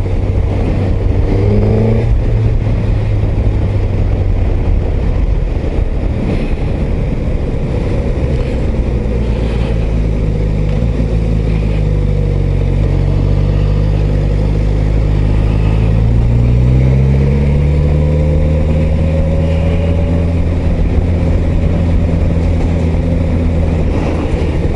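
A Suzuki GSX-S 1000 GT motorcycle being ridden on a test ride, its engine droning loud and close, climbing in pitch through several gears with shifter changes, over continuous wind rush and no speech.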